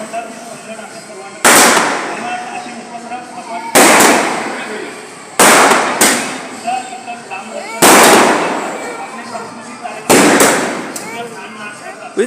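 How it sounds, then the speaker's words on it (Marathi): Red fireworks burst in the sky during a celebration, five loud sharp cracks at irregular intervals, each trailing off into a crackling decay, with people talking in between. "ते रेड कलरचे फटाके"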